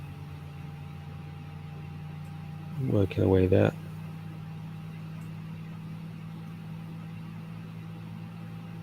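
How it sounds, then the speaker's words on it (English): An Airbus A320 jet engine spins up with fuel flowing in a flight simulator game, a steady low droning hum with a faint whine that runs throughout, and someone briefly talks over it midway. "You can hear the fuel flow"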